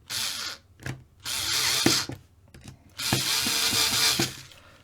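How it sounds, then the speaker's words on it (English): Long screws driven into a Tamiya TT-02 RC car chassis during assembly, heard as several bursts of close mechanical whirring and ratcheting separated by short pauses, with soft clicks between them and no talking. "they drop into the end, and you just got to screw them in."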